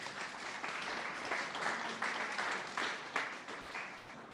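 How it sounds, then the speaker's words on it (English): An audience at a community meeting gives the evening's presenters a round of applause, a dense, even wash of many hands clapping at moderate distance, holding steadily for several seconds. "Round of applause for our presenters."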